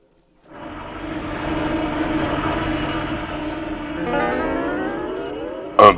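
A steady engine drone of an airplane rises and holds for several seconds, loud and continuous, with a brief sharp sound at the very end.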